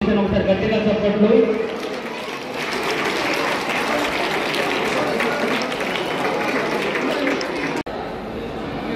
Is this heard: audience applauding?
yes